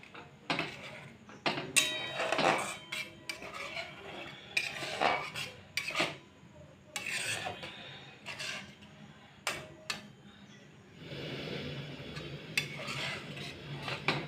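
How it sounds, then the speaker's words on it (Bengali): A utensil scrapes and clinks against a pot as milk is stirred into mango for aam kheer, irregular close knocks and scrapes with quieter pauses between them. "এবারে দুধটা দিয়েও আমি আমের সাথে ভালো করে নেড়ে চেড়ে মিশিয়ে নেব।"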